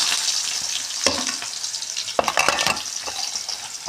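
Onion and cumin fry in a pan for vegetable khichdi, giving a loud, steady sizzle with a few sharp stirring scrapes and clinks of a spoon against the pan.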